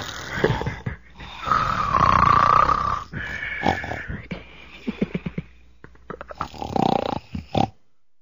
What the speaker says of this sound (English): you're playing the snoring noise